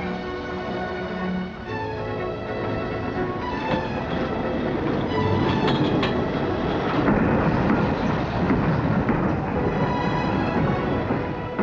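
Diesel-hauled goods express train rumbling and clattering past at steady volume, with rhythmic wheel noise over a continuous engine drone and no speech.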